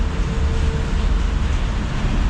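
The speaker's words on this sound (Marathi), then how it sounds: "हे जे आवाज आहे आवाज हे रेल्वेचा आहे" A train runs along a nearby railway track in Punjab, giving a loud, continuous low rumble and roar that stays level throughout without any breaks or voices.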